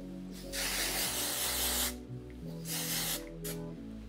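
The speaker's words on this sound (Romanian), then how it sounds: "puteți să folosiți acest produs Dry Texture Spray" Dry Texture Spray misted onto the hair of a wig in two long, steady hissing bursts with a short pause between them, close and fairly loud, over a low background hum, with no one speaking.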